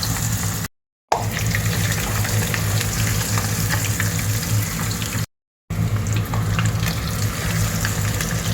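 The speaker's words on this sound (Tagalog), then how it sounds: "Deep fry natin mga men para lami" An anchovy omelette (tortang dilis) deep-fries in oil with a loud, continuous sizzle and crackle, broken by two brief gaps of silence.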